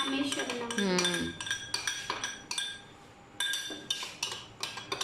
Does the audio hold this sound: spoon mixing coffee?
yes